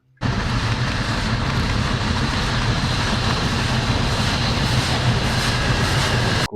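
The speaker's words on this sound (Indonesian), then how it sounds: "Wadidaw, lokomotif kereta api lagi." A loud, steady rumbling roar of a train locomotive plays without a break for several seconds, then cuts off abruptly, heard as a sound effect from a toy train.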